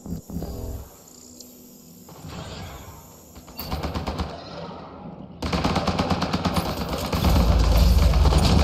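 Automated gun turrets in the sci-fi video game Mass Effect Andromeda fire in sustained rapid bursts, growing louder and denser toward the end, layered with game ambience and no talk.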